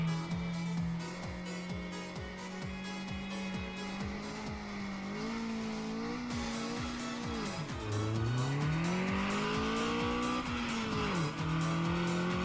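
A car drifting in the Mountain Pass Racing video game, its engine humming and revving while the tires squeal through a long slide, loud and continuous with shifting pitch.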